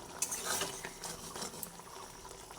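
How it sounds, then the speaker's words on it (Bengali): Pointed gourd and chhana being stirred in a pan, with soft scraping and light clinking strokes at an uneven pace, quiet and close, and a short sharp knock right at the end. "একটু ভালোভাবে নাড়াচাড়া করে দিচ্ছি"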